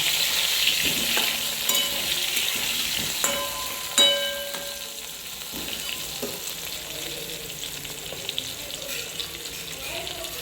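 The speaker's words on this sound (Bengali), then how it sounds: "আলুগুলো একটু ভাজা হয়ে গেছে" Potatoes fry in hot oil with turmeric, giving a continuous crackling sizzle broken by several sharp metallic clinks of a utensil against the pan.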